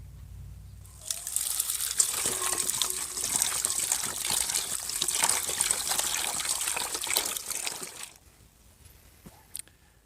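Harvested sunchokes being washed in water, a steady close trickling and splashing of running water with slight crinkling handling that lasts about seven seconds, then stops, leaving quiet room tone.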